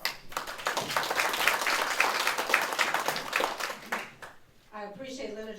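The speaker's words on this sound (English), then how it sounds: "So please give yourselves a round of applause." Audience applause fills a membership meeting of a Black chamber of commerce, dense clapping sustained for about four seconds before tapering off, and then a voice begins speaking alone.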